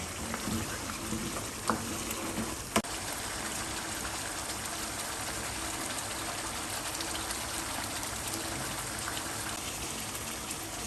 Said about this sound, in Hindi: इसको अच्छे से भुनाई कर लेंगे ताकि टमाटर वगैरह बिल्कुल सॉफ्ट हो जाएं, इसमें मिक्स हो जाएं